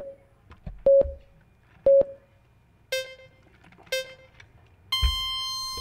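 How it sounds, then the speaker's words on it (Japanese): Electronic start signal for a model car race in the ECO6 narrow class: five beeps about a second apart, the first pairs short and clipped, the last a long sustained tone, all fairly loud with no talking. "じゃあ一回スタート音練習で聞いてもらいます"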